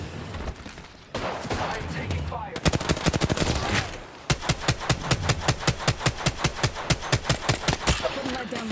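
Rapid automatic gunfire bursts in Apex Legends, loud and close, with long rattling strings of evenly spaced shots separated by brief pauses, a voice sometimes talking underneath.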